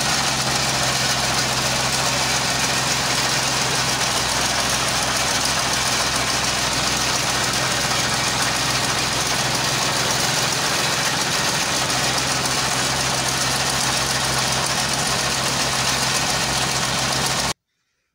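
A 135 tractor engine idles steadily nearby with a low, constant chugging rumble, loud and unbroken, before stopping abruptly at the end.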